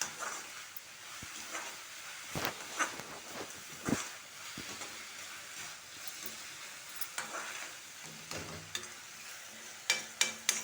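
Onions and spices for an egg masala gravy sizzle steadily in a hot pan, with scattered scrapes and clinks of a spoon stirring at irregular intervals, close by and no talking.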